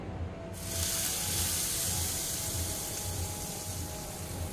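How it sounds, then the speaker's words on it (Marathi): Hot tempering is poured onto chutney in a bowl, setting off a sudden loud sizzle that starts sharply and keeps hissing steadily, close up, with no talking. "आता जी फोडणी तयार केली आहे ती आपण यावर आता टाकून घेऊया।"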